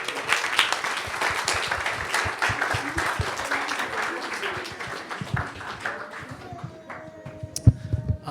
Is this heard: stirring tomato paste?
no